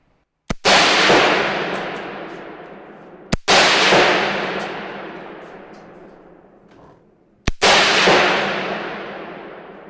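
Three loud, sharp Galil rifle shots at a factory production test-firing range, spaced a few seconds apart, each followed by a long echoing decay across an open range.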